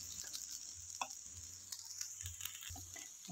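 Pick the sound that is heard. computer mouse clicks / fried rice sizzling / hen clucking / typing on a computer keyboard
fried rice sizzling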